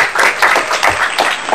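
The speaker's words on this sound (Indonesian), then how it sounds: "Tepuk tangan dong buat ini." Brief, close applause at a community organization gathering in Jakarta, a few people clapping in quick uneven bursts.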